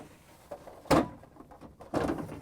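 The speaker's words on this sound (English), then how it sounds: "pull out the ice bucket." Ice bucket pulled out of a GE refrigerator freezer, two distinct plastic sliding clunks about a second apart, close and moderately quiet.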